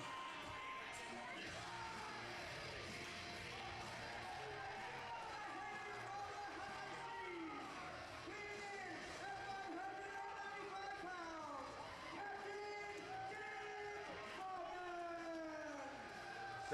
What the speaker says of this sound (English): the crowd really loving the captain right now